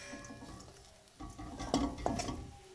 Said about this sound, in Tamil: ஒன்றா மிக்ஸ் பண்ணுற வரைக்கும் மிக்ஸ் பண்ணிவிட்டு அடுப்பை ஆஃப் பண்ணிடலாம்.